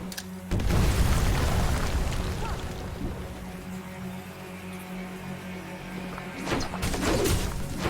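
A grenade explosion in Age of Wonders: Planetfall, a heavy boom that bursts in near the start and rumbles away slowly, with a smaller impact near the end and no talk.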